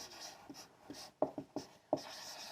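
Pen strokes scratch across paper in short, distinct bursts while a maths equation is written out, close and fairly quiet with no talk over them.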